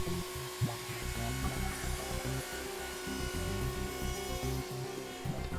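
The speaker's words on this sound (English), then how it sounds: "final deburring of the outer shape is made by high-speed milling" A high-speed milling machine deburring the outer shape of cast products grinds with a steady, dense rasping whir and a low mechanical hum throughout, with no talk.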